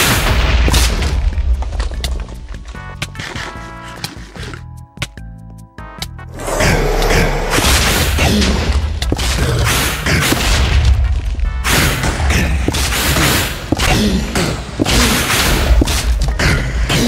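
A Minecraft wither blows up in a video game with a loud, sustained barrage of booming, crashing blasts that drop out briefly before another long roaring burst.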